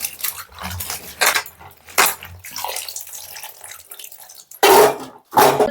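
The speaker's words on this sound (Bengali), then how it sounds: "সবজিটা কিন্তু খুব সুন্দর করে ধুয়ে নিতে হবে ফার্স্টে" Vegetables being washed in a basin of water for a village-style fish-head chachra, with uneven splashing and sloshing bursts, a few sharper clattering moments, and short quiet gaps between the washes.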